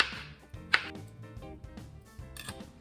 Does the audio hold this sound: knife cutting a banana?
yes